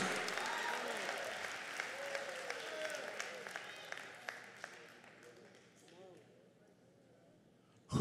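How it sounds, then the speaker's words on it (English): A church congregation applauds during a sermon, warm scattered clapping that gradually thins and fades away, with a voice speaking over it. "You don't have to clap for me."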